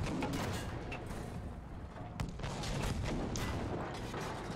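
Tank cannon fire from a World War II Tiger tank in a Battlefield game, shooting at a roadside barricade: heavy booming blasts and rumbling battle noise, loud and continuous, with a sharp report partway through.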